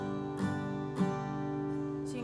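Acoustic guitar strummed close up: a sustained ringing chord with two sharp strums, fairly quiet, and no talk over it.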